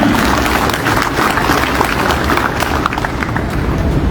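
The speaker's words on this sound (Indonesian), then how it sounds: "Aplaus untuk kita semuanya." Applause from a gathered crowd of PLN electricity workers at an outdoor readiness ceremony, a dense, steady wash of clapping held loud and unbroken throughout.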